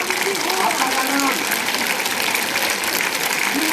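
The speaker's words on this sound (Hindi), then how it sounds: "पीहू बंसल के लिए जोरदार तालियां भाई इस बच्ची के लिए" Schoolchildren at a public school in Shamli, India, clap together in a dense, steady round of applause that runs evenly the whole time, with voices faintly mixed in.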